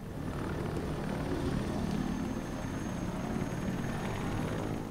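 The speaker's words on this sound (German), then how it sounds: "Ist das eine Drohne oder was?" A drone hovers overhead in Batman Arkham Knight, a steady, even rotor drone with a low rumbling whir that holds constant throughout.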